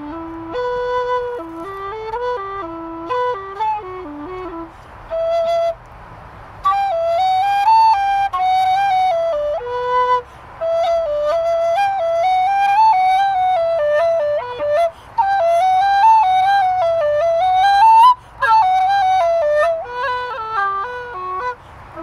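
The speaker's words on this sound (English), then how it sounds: "The Burke, I feel like I'm blowing it a little out of tune." A Burke low D whistle is played in a flowing melody of clear, breathy tones, some notes slightly out of tune from breath pressure. The phrases run continuously with brief breaks, close and prominent.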